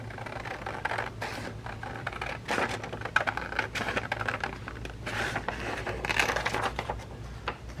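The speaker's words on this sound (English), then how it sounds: "Now I'm just cutting on the inside of that score line." Scissors snip through thin vellum paper along a score line while making an envelope, a series of close, soft crisp cuts and crinkles with light scratchy paper rustle between strokes.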